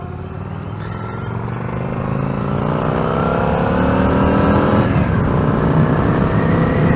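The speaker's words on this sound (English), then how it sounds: "today I am test riding a 2003 XVS1100. It is the Yamaha vstar 1100." A 2003 Yamaha V-Star XVS1100 cruiser with aftermarket Cobra pipes runs loud and close, its V-twin engine droning steadily and climbing gradually in pitch as it pulls away, with no voices.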